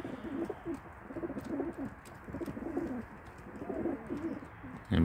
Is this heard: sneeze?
no